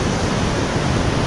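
Steady, broadband surf on a wide open, nearly empty beach at Playa Bacocho, Oaxaca, Mexico, with waves washing continuously and evenly throughout.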